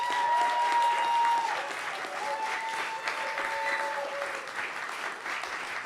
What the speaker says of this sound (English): So a round of applause please for James Fernie.